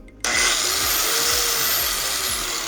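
An electric hand grinder switches on after a brief quiet moment, then runs loud and steady with a high whine, slowly easing off over the next couple of seconds.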